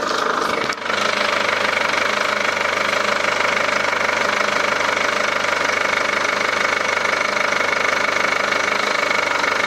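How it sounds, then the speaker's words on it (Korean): A car engine runs steadily at idle, a continuous close rumble with a faint rhythmic knock, uninterrupted for several seconds after a brief click. "엔진 소리 한번 들어보겠습니다"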